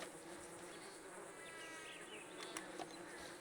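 Wasps drone around a hidden nest in Red Dead Redemption 2, a faint, steady high buzzing with a few passing insects, heard alone with no talk.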